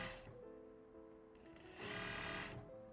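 An industrial sewing machine stitches steadily, its motor giving a continuous mechanical hum with a rapid rattle that grows louder and busier midway as the machine speeds up.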